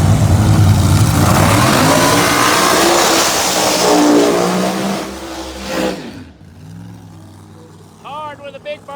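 A screw-blown Chevrolet Corvette Pro Mod drag racing car does a big burnout, a loud, close, roaring blast that fades away after about six seconds. A voice then speaks briefly.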